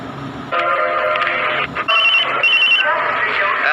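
A telephone rings with a bright repeating electronic tone, starting abruptly after a moment of quiet, with some background noise.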